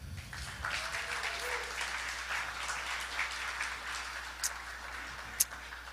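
An audience at a Helium Mobile event in New York City claps steadily for the whole stretch, a dense, moderately loud ovation with a couple of sharper individual claps near the end.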